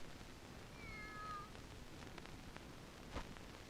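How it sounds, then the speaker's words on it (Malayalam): A single short, thin meow from a cat, quiet and slightly distant, followed by faint rustling and a brief soft squeak. "ഒന്നുമില്ല, ഒരു പൂച്ച"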